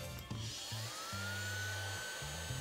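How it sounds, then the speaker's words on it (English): A RYOBI 4V USB cordless Palm Vac handheld vacuum runs close to the microphone with a steady motor whine over a low, droning hum, broken by a few brief shifts in pitch. "To turn on the Palm Vac, simply press the power button in the front."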